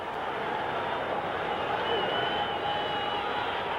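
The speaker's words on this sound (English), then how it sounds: "Boy, this crowd is really up" A 1977 NFL stadium crowd at a Bears–Oilers game roars steadily, a dense, sustained wash of cheering and babble that fills the space without letup.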